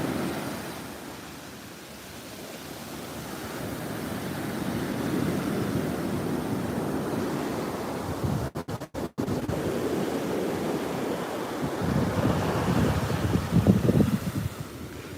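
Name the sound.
ocean waves at a South Florida beach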